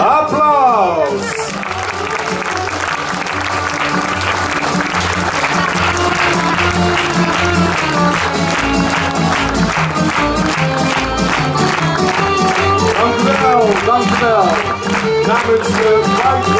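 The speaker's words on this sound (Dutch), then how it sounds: "om u te bedanken voor uw applaus" Steady applause from a large festival crowd at an Efteling circus show runs throughout, layered over loud music and voices.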